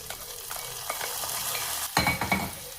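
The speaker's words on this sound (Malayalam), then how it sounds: "കടുക് വറുത്തത് കറിയിലേക്ക് ചേർക്കാം" A brief hiss and crackle of hot fried mustard-seed tempering hitting curry, with a spoon clinking against the pot.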